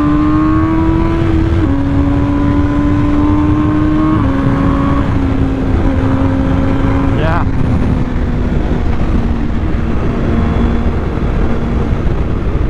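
An MV Agusta Brutale 1000 Serie Oro motorcycle engine accelerates hard. The engine note climbs and drops back with each gear change, three shifts in quick succession, close and loud.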